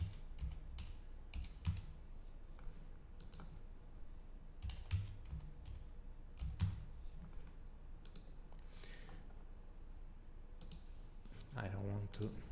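Keys clatter on a computer keyboard in short, irregular bursts of close typing while entering login details, with a faint voice present beneath.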